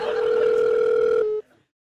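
A telephone on a live call-in show gives a steady, loud electronic tone lasting just over a second before cutting off abruptly into silence.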